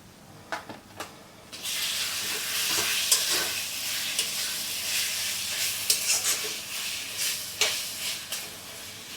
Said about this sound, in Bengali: এই যে দিয়ে দিব, দিয়ে তারপরে ভাজা ভাজা করব।